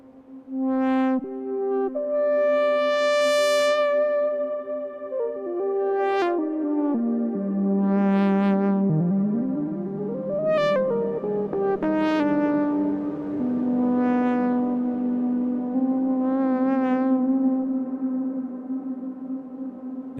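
A sustained breath-controlled Eurorack synth lead glides and bends between pitches, bright and reedy with swelling breathy dynamics, playing a slow melodic line alone for twenty seconds.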